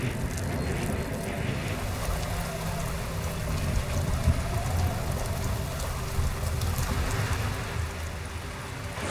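Steady rain falling in the desert of the Omo Valley, a dense, even hiss of drops with a low rumbling undertone that continues unbroken throughout.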